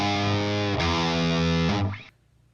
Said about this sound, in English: we're using the 5150 with the NAD IR cab sim here